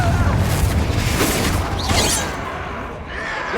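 A Confringo spell explosion in Hogwarts Legacy: a loud, dense booming blast with crackling debris that fills the whole moment, then trails off into a rumbling tail.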